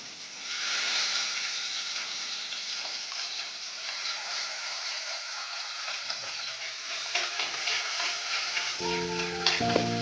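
Chopped shallots frying in a pan for a traditional Kerala fish curry, giving a steady broadband sizzle throughout, with a low tonal hum entering near the end.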